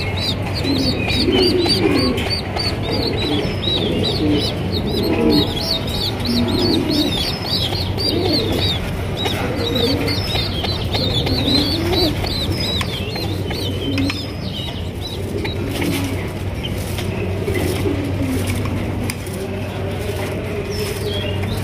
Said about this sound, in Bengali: সৌন্দর্যের মালিক হয়েছে এই কবুতরটা মাশাআল্লাহ